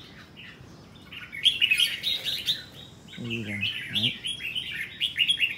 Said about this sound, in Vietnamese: một con chim nó cứ ché suốt này các bác này